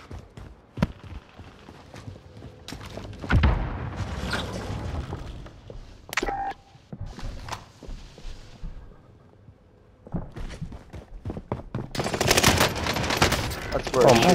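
Bursts of automatic gunfire and single shots from Call of Duty: Modern Warfare, loud and close in several volleys, with a heavy sustained barrage near the end and a player talking between shots.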